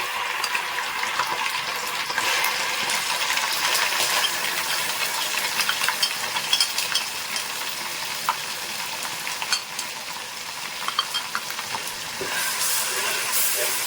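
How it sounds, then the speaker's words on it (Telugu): Ginger garlic paste fries in a pan for mutton biryani, giving a steady dense sizzle with crackling spits and small pops, close and continuous with no talking. "ఈ అల్లం వెల్లుల్లి పేస్ట్ కూడా బాగా వేగాలండి"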